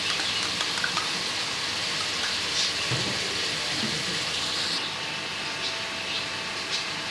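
Mutton sizzles and fries steadily in a pot as ginger and garlic go in for Sindhi biryani, a continuous crackling hiss with a few soft stirring knocks, close and even, no talk.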